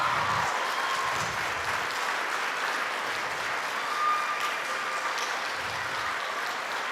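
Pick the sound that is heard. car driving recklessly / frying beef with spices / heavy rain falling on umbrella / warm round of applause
warm round of applause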